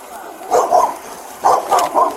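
A dog barks in short bursts near a house: one bark, then three quick barks after a pause, loud and close over a quiet background.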